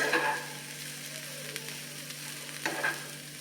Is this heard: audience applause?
no